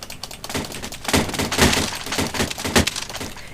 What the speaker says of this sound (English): If I type give weapon knife